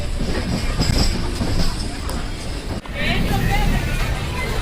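A Mandore Superfast sleeper-class train from Delhi toward Jodhpur runs on rails, a loud continuous rumble and rattle with rhythmic clickety-clack heard from inside the carriage, with faint voices in the background.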